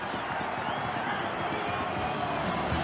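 Rugby league stadium crowd in a Manly versus Parramatta match in 1991, a steady loud roar of disapproval over a disputed try, mixed with scattered shouts and thuds, with a commentator talking over it.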